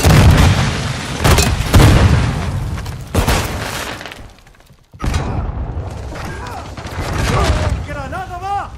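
Loud booming grenade blasts in the video game Call of Duty: Modern Warfare II, with crashing, shattering debris and bursts of gunfire, followed by a brief lull and then shouting voices amid continued chaotic battle noise.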